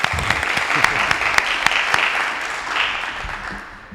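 Audience applause for a sponsor at a panel-style event on diversifying the economy, a steady wash of many hands clapping, with a few sharp claps standing out, fading gradually toward the end.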